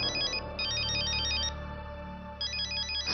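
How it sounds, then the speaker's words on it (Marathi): Electronic phone ringtone in a Marathi TV drama scene, a repeating high-pitched melodic pattern that rings in two bursts with a brief pause between, steady and clear with no one talking. "सत्यजितचा फोन"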